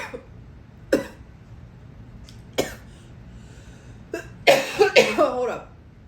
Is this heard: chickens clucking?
no